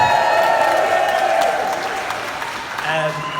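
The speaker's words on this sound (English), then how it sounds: "So give yourself a massive round of applause." A festival crowd gives a round of applause for its volunteers, with loud, sustained clapping from many people that eases slightly toward the end while faint voices and tones sound underneath.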